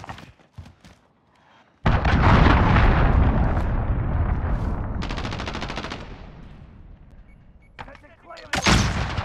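Cruise missile strikes in the shooter game Call of Duty: Modern Warfare, a massive roaring blast that hits suddenly after brief quiet and rumbles on for several seconds, fading slowly before a second sharp burst at the end.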